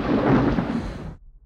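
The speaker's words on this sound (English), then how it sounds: "The thunder is not helping this." Thunder in a 1993 film scene, a dense, loud rolling rumble that holds for about a second and then cuts off abruptly.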